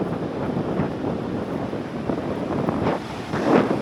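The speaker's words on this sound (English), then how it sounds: "The wind's actually dropping off, surprisingly." Steady wind buffets the microphone on a beach at Lancelin, with broad surf noise rolling underneath and a slightly louder gust or wave wash near the end; no one speaks.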